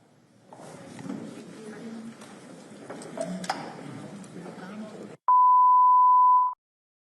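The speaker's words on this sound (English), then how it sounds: "So let me get that beeping done." After a few seconds of muffled talk and clatter, a single loud, steady electronic beep sounds for over a second, then cuts off.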